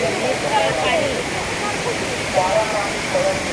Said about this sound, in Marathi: पाण्याचा खळखळाट छान मस्त आहे ना हो